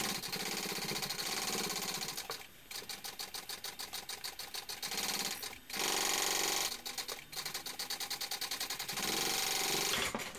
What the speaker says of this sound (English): I'm going to baste it from the exterior.